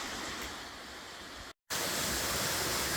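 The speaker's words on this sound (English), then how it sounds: "Our first glimpse of a waterfall." A tall waterfall on a forest trail in New Brunswick gives a steady broadband rush of falling water, heard from a distance, with a brief dropout in the middle.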